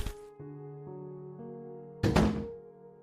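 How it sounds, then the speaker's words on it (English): A door slamming shut as a sound effect, a single heavy thud with a short rumbling tail that rises over a sustained tonal drone. "The door slammed shut."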